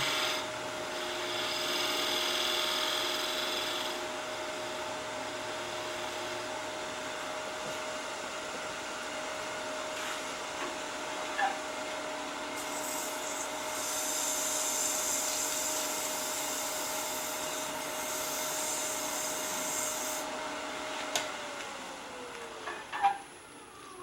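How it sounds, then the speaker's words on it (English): A turned wood piece is lightly sanded on a running lathe, giving a steady whirring rasp with a constant motor hum underneath, close and fairly quiet, with a few small knocks near the end and no talk. "we're going to sand this lightly."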